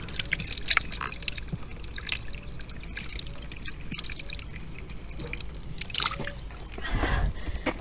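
Spring water running from an outdoor tap in the countryside, a continuous close splashing trickle with drips, fairly loud and steady, with a voice faintly in the background.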